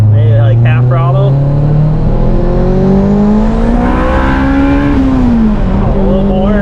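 A 700whp all-wheel-drive Honda Civic Si pulls hard at half throttle on a countryside road, its loud engine note climbing steadily in pitch, easing briefly, then rising again, while people talk inside the car.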